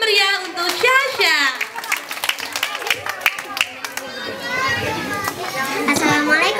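A group of children claps and cheers for a young performer named Sasa at a live show, with bursts of scattered applause mixed with excited kid voices and chatter throughout.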